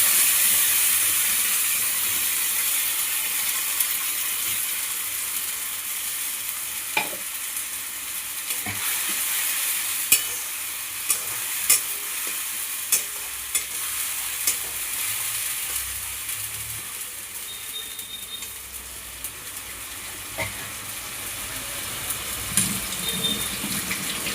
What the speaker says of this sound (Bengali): বেটে রেখেছিলাম কাঁচা লঙ্কা আদা রসুন একটু পেঁয়াজ এটা দিয়ে দিলাম